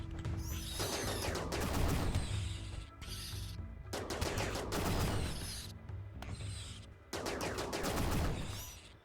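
Colonists shooting in RimWorld: bursts of clattering gunfire with mechanical clicks, several dense volleys separated by short lulls, loud and close.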